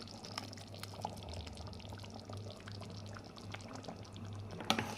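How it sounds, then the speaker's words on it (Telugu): Tomato puree made from four ground tomatoes is poured into a mutton curry, giving a soft, steady liquid pour with faint drips, fairly quiet and alone, ending in a brief sharper splash or clink. "ఇప్పుడు టొమాటో ప్యూరీ వేసుకుందామండి."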